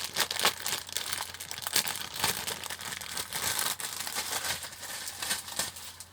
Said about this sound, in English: onto the body shell, which I'll remove out of its packaging